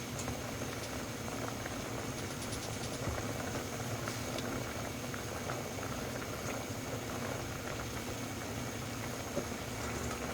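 Gulab jamun simmering in sugar syrup on the stove, a steady dense bubbling boil that runs unbroken and fairly close throughout, with a faint low hum underneath.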